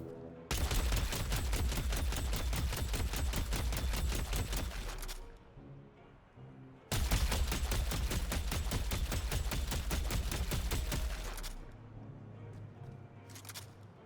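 Viscous's gun firing in the video game Deadlock, two long sustained bursts of rapid automatic fire, loud and close, separated by a short pause and trailing off into quiet afterward, with no talk.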